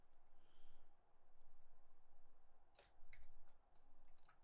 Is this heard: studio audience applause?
no